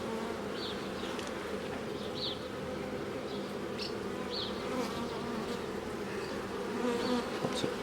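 Honeybees buzz in a dense, steady drone during a beehive inspection, with a few individual bees whizzing past close by over the constant hum.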